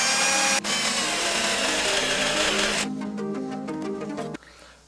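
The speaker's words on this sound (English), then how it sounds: "So I need to drill a hole about halfway through, wider than the bolt head" A power drill whines steadily, then its pitch shifts as it bites into a recliner's wooden base, and it stops near the end.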